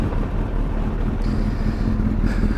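A 2008 Suzuki Hayabusa motorcycle engine idles while warming up, a steady, close, continuous low rumble with no revving.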